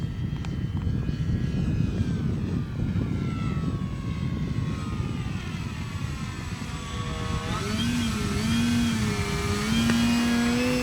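A propeller aircraft flying aerobatics at Arnarvöllur airfield drones steadily throughout, its engine pitch rising and falling with the maneuvers, loud and continuous with no talk.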